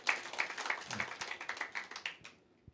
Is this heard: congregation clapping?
yes